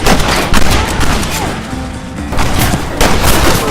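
Dense, loud Red Dead Redemption gunfire crackles in rapid overlapping bursts, a sustained shootout with shots layered over one another and only a brief dip in intensity midway.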